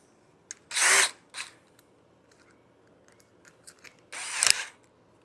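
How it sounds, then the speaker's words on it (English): A handheld power drill runs in two short bursts, about a second each, with faint clicks and handling noises between them, heard close and alone while a hole is worked through for a fan mount. "So I'm going to take my drill,"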